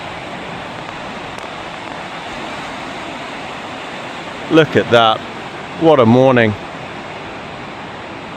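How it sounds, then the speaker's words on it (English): Storm-driven ocean surf on a beach keeps up a steady broadband wash throughout, with a nearby person speaking briefly over it twice. "the waves are definitely bigger than yesterday"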